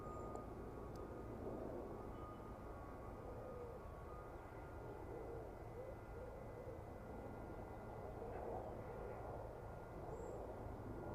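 An airliner approaching runway 27 at East Midlands Airport makes a faint, distant, steady engine drone over a low outdoor background, with no one talking.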